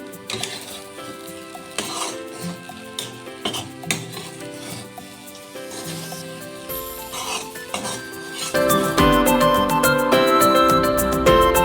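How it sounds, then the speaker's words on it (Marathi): Salt and coriander are mixed into food in a pan with a utensil, giving repeated scraping and clinking stirs, close up, with background music throughout that grows louder toward the end. "कोथिंबीर टाकून घेतली, ते पण आपण मिक्स करूया छान."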